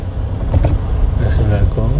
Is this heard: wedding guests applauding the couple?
no